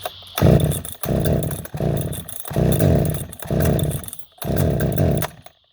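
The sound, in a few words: flooded chainsaw engine starting up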